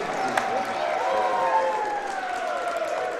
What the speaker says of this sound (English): That'll bring the crowd to its feet.